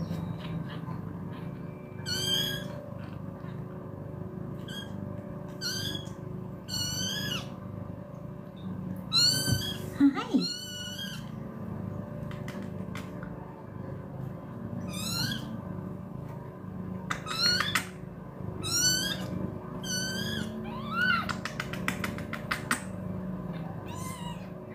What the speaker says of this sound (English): These are just rescue cats